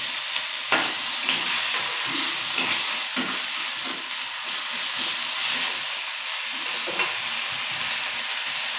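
Chopped onion and ginger paste fry in a pan with a continuous loud sizzle and hiss, broken by a few stirring scrapes.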